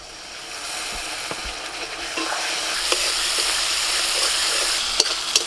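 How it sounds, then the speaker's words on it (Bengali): Spiced masala with turmeric and garam masala sautéed in a pan with a splash of water, a sizzle that swells louder and more steady, with scattered spatula scrapes and clicks, no talk. "অল্প একটু জল দিয়ে মশলাটা ভালো করে কষিয়ে নেব।"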